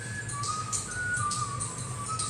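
A mobile phone plays a whistled melody ringtone, faint and a little distant, repeating its short pattern throughout over steady low room hum.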